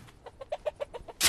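A chicken in A Township Tale gives a quick series of about eight soft, evenly spaced clucks, close and clear, ending in a brief louder rustling burst.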